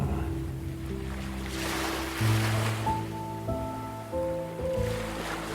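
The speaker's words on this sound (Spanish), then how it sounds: "el sonido del mar te llama." Sea waves wash onto the shore in a steady, rolling surge with a broad hiss, and soft sustained tones of calm meditation music play over them throughout.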